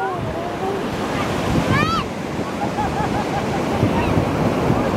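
Ocean waves wash continuously onto a long, shallow beach at Oceanside, California, a close, steady surf roar with wind buffeting the microphone and faint bird calls overhead.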